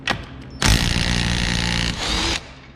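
A Bosch 18-volt brushless cordless half-inch impact wrench hammers rapidly on a nut for about two seconds, loud and close, preceded by a short burst and ending abruptly.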